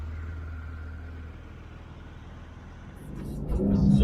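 A 2016 Porsche 911 GT3 RS with its 4-liter engine idles with a low rumble, then revs up sharply near the end into a louder, rising growl.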